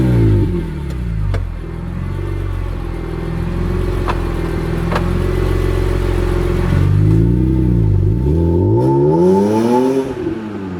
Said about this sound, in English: This is my 2001 BMW M Coupe.